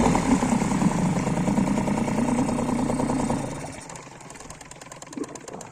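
A Parsun 3.6 outboard boat motor runs with a rapid, rattling mechanical beat, loud and close, then drops in level and settles into a quieter idle near the end.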